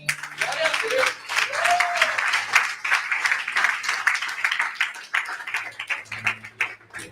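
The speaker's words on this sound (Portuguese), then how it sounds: "Tá, aplauda a Jesus." A church congregation claps together in a dense, uneven patter, with voices calling out over the applause and some louder shouts in the mix.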